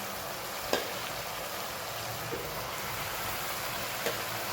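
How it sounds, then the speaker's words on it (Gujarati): Fresh spinach hits a hot pan over full flame after water goes into the spice masala, giving a steady, close hiss of sizzling with a few faint clinks of stirring and no talk. "ગેસને એકદમ ફૂલ જ રાખીશું અને સીધી પાલકને એડ કરી દીધી"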